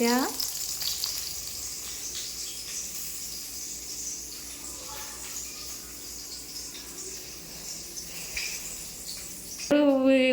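Food crackling and sizzling steadily in a pan as someone cooks, a continuous frying hiss throughout with a brief stirring clatter near the end, no talk.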